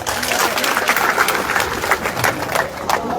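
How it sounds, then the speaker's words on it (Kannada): Audience clapping steadily at a political rally for sugarcane farmers' protest, a dense, continuous crackle of many hands throughout, with some voices mixed in underneath. "ಈ ರಾಜು ಸಾಹೇಬ್ರಿಗೆ ಇನ್ನೊಂದು ಜೋರಾಗಿ ಚಪ್ಪಾಳೆ ಬಾರ್ತಾರೆ"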